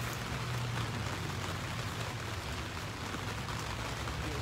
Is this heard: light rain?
yes